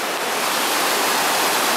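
Loud, steady rushing water from a cold stream in Kamikochi Valley, Nagano, a dense broadband roar filling the whole stretch with no voices over it.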